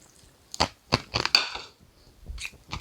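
Sharp crackling pops from popping candy fizzing in a New Year's Eve cocktail, several bursts of snapping close by with brief quiet gaps, no voices.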